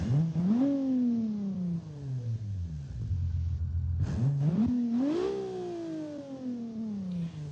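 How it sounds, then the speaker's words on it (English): A car engine in the BeamNG video game revs up with a growling exhaust, winds down to a low idle rumble, then revs sharply again twice, loud and steady throughout. "wow, listen to that exhaust."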